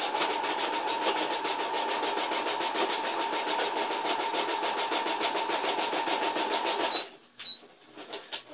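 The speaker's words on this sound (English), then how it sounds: "I'm going to let y'all hear me sew, and I'm going to zigzag it down." A sewing machine runs a zigzag stitch in a fast, steady mechanical whir for about seven seconds, then stops, followed by a few soft clicks.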